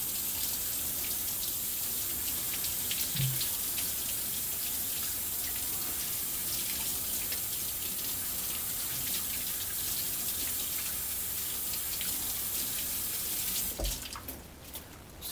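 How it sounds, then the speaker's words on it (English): Tap water runs steadily into a sink during handwashing, a close, continuous splashing rush that cuts off abruptly near the end. "So that's why it's important to make sure you wash your hands really well."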